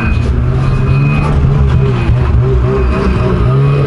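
A snowmobile engine drones steadily nearby as the machine is driven around a parking lot, a loud continuous motor hum with slight rises in revs and no talking.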